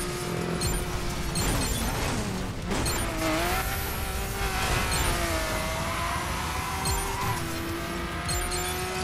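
A car in The Crew racing game crashes while racing, with a steady loud engine drone, tire squeal and skidding, and a heavy thud of impact partway through, all close and continuous without talk.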